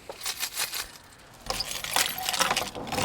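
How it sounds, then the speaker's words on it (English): A large bunch of keys jangles and clinks in short metallic bursts at the door of a rental property, loud and close, with no talking. "jailer's keys."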